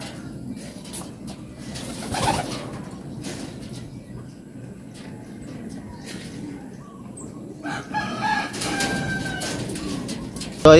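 Pigeons coo softly in a loft or coop amid low background noise, with scattered fluttering and shuffling, faint rustles and a few sharper knocks close by.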